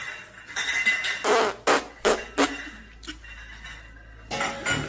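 Several short, loud bursts of flatulence come in an uneven series, each a sharp blurt, with quieter rustling and faint clinks between them in a domestic comedy setting.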